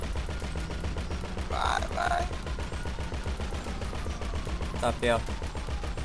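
Rapid automatic gunfire rattles nonstop through a chaotic free-roam battle in GTA V Online on PC, dense bursts layered over each other, while players shout urgently in short excited calls over the shooting.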